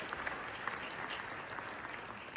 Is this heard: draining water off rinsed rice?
no